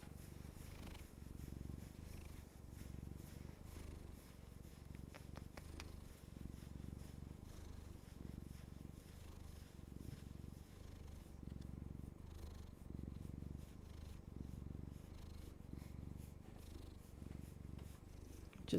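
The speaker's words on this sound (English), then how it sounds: "We're just gonna be quiet for a minute and listen to the purrs." Cat purring close up, a soft continuous rhythmic rumble pulsing with each breath in and out, quiet and steady throughout with no talk.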